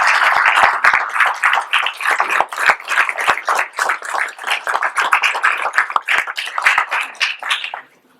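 An audience at a tribute event applauds loudly and close, a dense, continuous round of clapping lasting about eight seconds before cutting off sharply.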